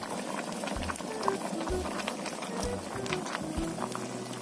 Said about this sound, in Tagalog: Kasi kumukulo na.